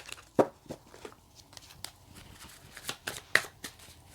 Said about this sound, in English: Just going to give them one more shuffle.